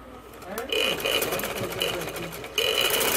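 A sewing machine stitches a ladies' kurti, running a seam over a folded edge in a steady mechanical whir that holds from under a second on, with a sharper surge near the end.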